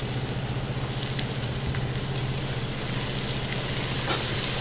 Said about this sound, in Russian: Все это размешиваем и обжариваем.